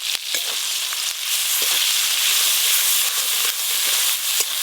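Black cumin seeds, turmeric, ginger-cumin paste, chopped tomato and slit green chillies fry in hot oil for a cumin catla fish curry, a steady loud sizzle with small pops and occasional stirring scrapes throughout.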